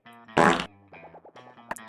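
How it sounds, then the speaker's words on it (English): A cartoonish fart sound effect from the monster camp dating video game blurts once loudly for about a quarter second, set among soft synthetic game chimes and tones before and after. "Yes, a fart in my ears."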